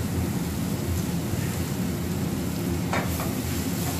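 Onions and garlic sweating in a pan with a little salt, giving a steady, soft sizzle that holds an even level throughout with no talking.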